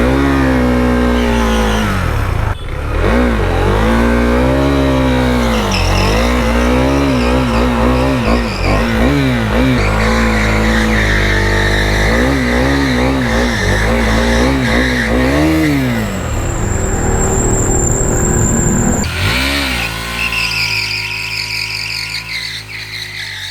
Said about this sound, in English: Why not do a burnout before we get the new tire installed?